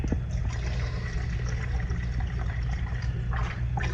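White vinegar poured from a 4-cup measuring cup into a pot in a home kitchen, a steady continuous splashing stream with a low rumbling fill, close and unbroken for several seconds.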